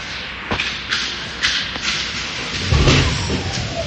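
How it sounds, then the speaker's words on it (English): A hard body check in a high school junior varsity ice hockey game against a 14U team lands as a heavy, close thud amid a few lighter rink bangs and knocks, with no talk. "That was a pretty monstrous hit."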